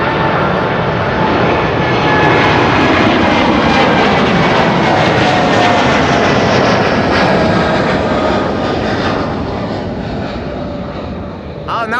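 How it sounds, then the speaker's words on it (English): A Boeing 747 jet takes off from Amsterdam Schiphol's Kaagbaan runway, a loud sustained engine roar with whining tones that swells and then eases slightly toward the end, as a voice talks over it. "747 is leaving right now in the background."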